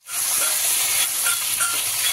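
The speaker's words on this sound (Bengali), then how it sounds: "সামান্য পেঁয়াজ, ভেজে টমেটো দিয়ে দিলাম।" Onion and tomato fry in hot oil in a pan for a tilapia fish curry, giving a loud, steady sizzle and hiss that starts abruptly and holds close throughout with no talking.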